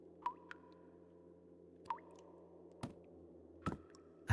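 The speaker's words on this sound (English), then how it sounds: "Spooky water noises." Sparse, eerie drips and squishy splashes of water in an indie horror game, a few isolated wet plinks and soft thuds spaced irregularly over a quiet hum.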